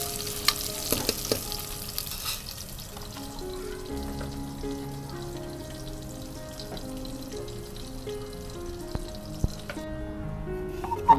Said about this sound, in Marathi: तेलामध्ये तेजपत्ता टाकताना आणि कांदा देखील सोडताना आवाज येला